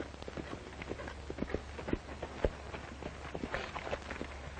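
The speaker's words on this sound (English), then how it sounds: "He's a great horse, Morgan." A racehorse gallops on a racetrack in a rapid, steady stream of muffled hoofbeats, faint and somewhat distant, over a low hum.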